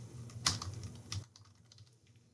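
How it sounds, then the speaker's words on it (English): Quiet, rapid keystrokes on a computer keyboard, a cluster of clicks for about a second followed by softer, sparser taps close to the microphone. "I can start typing in it."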